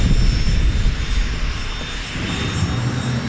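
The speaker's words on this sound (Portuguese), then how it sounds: "A explosão faz o ar se expandir e ser lançado como um jato pelo exaustor." A jet engine's exhaust roars loud and close in a constant blast, with a thin high whine running steadily above the rumble.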